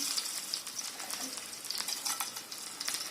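Dal tempering sizzles steadily in hot oil with lentils, mustard seeds, cumin, dried red chilies and asafoetida for a home-style Andhra pesarupappu charu, a continuous close crackle with a few faint stirring scrapes.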